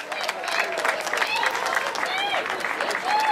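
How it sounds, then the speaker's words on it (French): Crowd applause and cheering at a cycling podium ceremony at the Tour de Romandie, a steady wash of clapping with voices calling out and talking over it throughout. "On l'applaudit bien fort."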